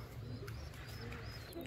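Domestic pigeons and their squabs coo faintly in low, murmuring pulses over a quiet, hissy background, with no clear talk.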